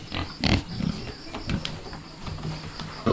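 Native piglets for sale grunt and squeal in a rough, repeated chorus, loud and close, with several overlapping oinks across the few seconds and a voice briefly heard.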